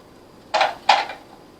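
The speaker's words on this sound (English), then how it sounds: "I'm going to use the food chopper" A food chopper chops vegetables for chili con carne, two sharp clacking strikes about a third of a second apart over a quiet room.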